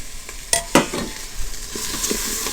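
Rice stirred into onions and peas in a pot for a jerk chicken meal, giving a couple of sharp scrapes early on and then soft, brief stirring and sizzling sounds, close by with no talking.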